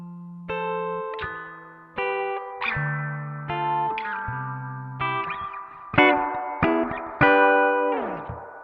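A BOSS RE-2 Space Echo pedal's spring reverb, modeled on the Roland RE-201 unit, washes over a series of clean electric guitar chords and notes, each struck loudly and left to ring with a lush, splashy tail.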